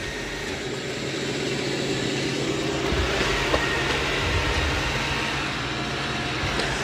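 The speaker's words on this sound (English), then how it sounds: "It's going to do the perimeter of the room first. So it's doing a really good job of vacuuming." A Dreame L10S Ultra Gen 2 robot vacuum runs around a room's perimeter with a constant, close whirring hum that stays even throughout, broken only by a few faint clicks.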